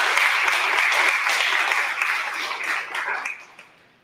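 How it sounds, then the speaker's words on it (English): Audience applause after the introduction of a student speaker at a talk on slavery history, dense steady clapping from a crowd that fades out over the last second. "Please give a round of applause for our student speaker, Caitlin."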